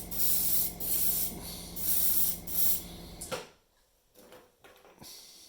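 Airbrush spraying thinned acrylic paint on miniatures, several loud hissing bursts in a steady on-off rhythm for about three seconds, then quieter short hisses and handling sounds.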